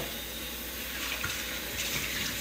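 Dishes rinsed under a running kitchen tap, a steady close hiss of flowing water into the sink with faint splashes, continuous and fairly quiet, no voices.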